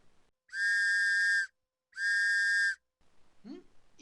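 Two long, steady whistle blasts of about a second each, separated by a short pause, followed by a brief rustling noise.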